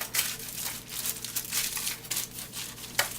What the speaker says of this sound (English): first thing we want to do is wrap the ham in tin foil